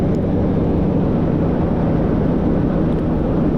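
A Rotorsport UK Cavalon gyrocopter flies over a large runway, its engine a steady, loud droning roar with rushing wind noise that holds evenly throughout, with no voices.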